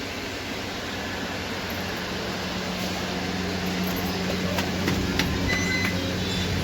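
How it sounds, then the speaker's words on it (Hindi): A household air cooler runs in a room, giving a steady broadband whoosh with a faint tonal hum that stays constant throughout, close and fairly loud. "यहाँ पे कूलर चल रहा है।"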